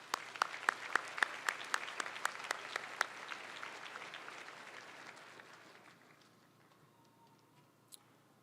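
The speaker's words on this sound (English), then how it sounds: "Let's give them a round of applause, please." Modest, fairly quiet applause at a university commencement ceremony, made of distinct individual claps that carry on steadily, then fade away, leaving near silence and one last clap.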